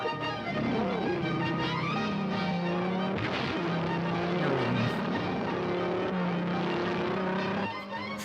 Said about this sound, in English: I love the engine sound and just how like massive it goes